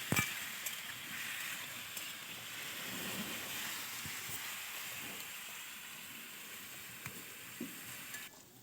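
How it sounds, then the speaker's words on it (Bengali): Potatoes with turmeric sizzle in hot oil in a pan, a steady soft frying hiss with occasional small pops and stirring clinks, no voices. "এবার আলুটা একটু ভেজে নেবো"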